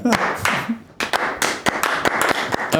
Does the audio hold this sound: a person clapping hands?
yes